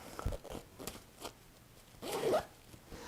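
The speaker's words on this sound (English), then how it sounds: "If you can find the zipper again, there we go." A zipper being pulled on the cover of a Purple Harmony orthopedic pillow, heard as a few short faint rasping pulls and scrapes, close but quiet, with no voices.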